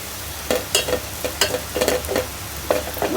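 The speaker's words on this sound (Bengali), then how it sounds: "বাগার দেওয়ার জন্য পেঁয়াজ রসুন কাঁচামরিচ আমি এখনই দিয়ে দিলাম একটু ভেজে নেই" Onion, garlic and green chili frying for a tempering for radish dal, a close sizzle broken by repeated scraping stirs at an irregular rhythm with no talk.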